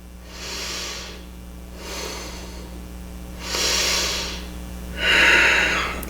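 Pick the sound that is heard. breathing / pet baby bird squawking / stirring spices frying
breathing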